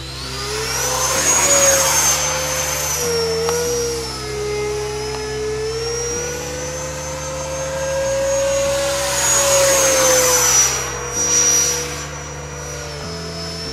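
An RC Hornet model airplane flies close by, its electric motor whining steadily and rising and falling in pitch as it passes, loud and continuous with no talking.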